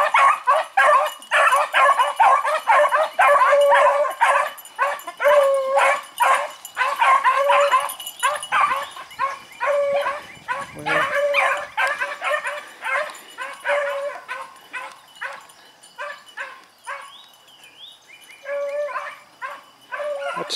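Several dogs in water whimper, yip and bark in rapid, overlapping bursts that go on continuously at moderate volume throughout.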